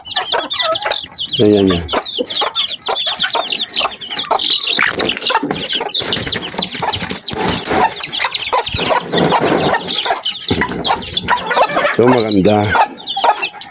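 Texas chickens crossed with Rhode Island cluck and squawk close by in a steady chorus, with a few louder calls standing out while someone talks over them.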